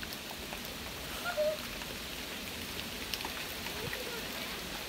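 Steady rain falls outside in a continuous soft hiss of drops on surfaces, at a low, even level with no speech.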